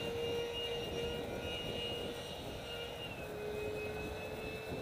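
Electric ducted fan model jet, a foam Su-37 Mk2 with canards, flying overhead with a steady high-pitched whine of the fan, sustained and moderately distant throughout without pause.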